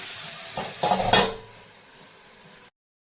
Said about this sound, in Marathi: कांदा असा हलवून घेऊ सगळ्या कांद्याला मीठ लागलं पाहिजे